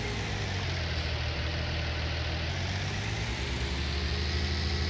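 A tractor engine in Farming Simulator 19 runs at a steady idle, a continuous low rumble that holds even and close throughout with no other sounds.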